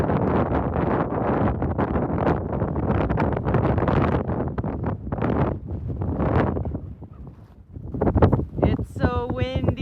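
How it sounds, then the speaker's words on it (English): Strong wind on a mountain hiking trail, a loud, steady roar of gusts buffeting close in, with a brief lull and then a louder surge near the end, where a voice speaks over it. "It's so windy. I almost lost my hat."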